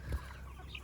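Chickens in a roller pen, with soft clucking and a low bird sound up close over a steady outdoor background.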